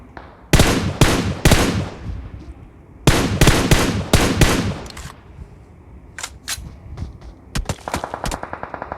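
Gunfire in the BGMI battle royale game during a tournament match, loud close bursts of rapid automatic shots in two volleys, then scattered single shots and a fast light clicking sequence at the end, no voices.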